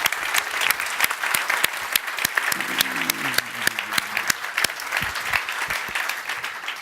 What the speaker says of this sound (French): applaudissez ces dames.